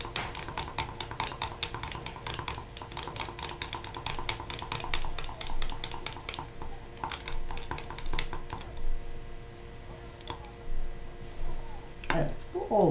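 An acrylic pour paint mixture being stirred in a cup, giving rapid clicking, scraping taps in steady bursts that thin out later, with a voice talking over parts of it.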